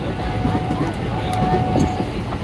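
A train rolls past on a railway close by, with a steady rumble and clatter of wheels on the track. A few voices murmur faintly beneath it.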